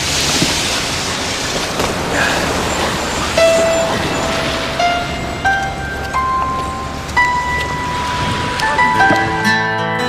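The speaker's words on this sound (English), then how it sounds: "Well, it's kind of raining." Steady rain hisses broadly throughout, with scattered tonal chimes and musical notes rising over it, loud and continuous without any talking.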